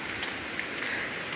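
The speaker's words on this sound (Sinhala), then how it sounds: "පොඩි වැස්සක් ආවා" Light drizzle falling on a rocky road near a waterfall, an even, soft hiss of rain that holds steady for a moment with no voices.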